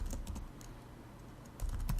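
Keys clacking on a computer keyboard as an admin URL is entered for a Django project, a brief close burst of typing with a quieter gap in the middle.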